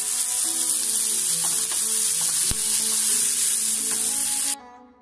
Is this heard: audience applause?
no